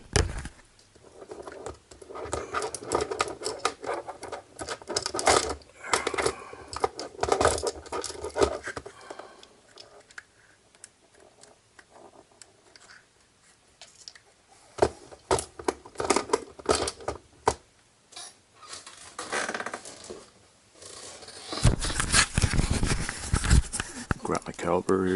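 Someone cuts the inner shaft of a 1/12 scale ECX Barrage RC car driveshaft, producing bursts of close, gritty rasping and scraping strokes separated by quiet pauses.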